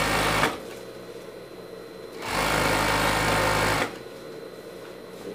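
A sewing machine stitches a collar onto a Mickey Mouse pet sweatshirt. The motor whirs in two loud, steady bursts, each running more than a second, with quieter pauses between them.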